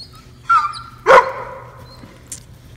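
Farm dogs give two sharp, loud barks close by, followed by a fainter yip, with no talking.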